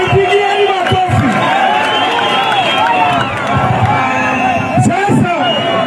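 A large outdoor political rally crowd in Kitengela, Kenya, at a politician's event, applauds and cheers in a dense, loud, continuous roar, with a speaker's voice carrying over the noise.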